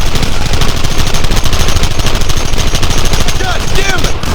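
Dense, rapid gunfire from a battle in the Western video game Red Dead Redemption, loud continuous rattling shots packed tightly together like machine-gun fire, steady for the whole stretch.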